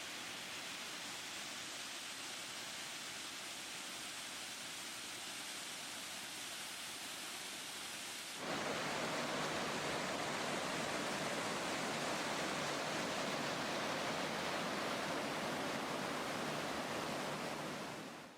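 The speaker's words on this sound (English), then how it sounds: "A couple of waterfalls and crystal clear mountain streams make the trail very scenic." Waterfalls and mountain streams on the Nakasendo trail in Japan's Kiso Valley produce a steady, dense rush of falling water, constant and fairly loud, with a louder, fuller surge partway through and no voices.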